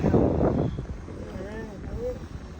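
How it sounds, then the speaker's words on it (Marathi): A DJI Flip drone's thin whirring whine rises and wavers in pitch over wind buffeting and murmuring voices at Shindavne Ghat. "ड्रोन चालू झालेला आहे"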